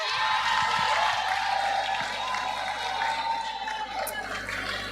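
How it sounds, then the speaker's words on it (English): A crowd at the Brown's Town Primary School 2023 graduation ceremony gives a sustained round of applause. The dense, steady clapping fills the space with cheering mixed in, and holds at an even, fairly loud level throughout. "round of applause for me?"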